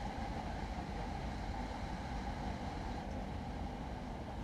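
A Hankyu Kyo-train running toward Osaka Umeda, heard from inside as a steady, close rumble of wheels on rails with continuous low roar and no talking.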